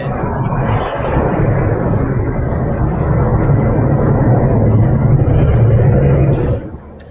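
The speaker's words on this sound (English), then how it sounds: "I think there's an airplane flying over Courtney's head right now." A propeller or jet airplane passes overhead, a steady broad rumble that holds loud for several seconds before cutting off abruptly near the end, with no other sounds over it.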